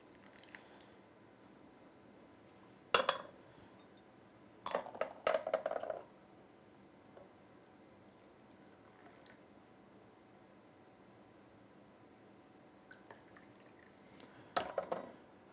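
Dark ripe puer tea brewed from White2Tea Old Reliable 2015 is poured off, with a few sharp clinks of teaware at intervals and a soft clatter of porcelain, quiet and close, and long near-silent gaps between.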